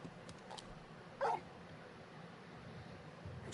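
Torgal, a large dog in a video game, gives a single short yip or whimper, faint but clear against quiet low background sound, with no talking.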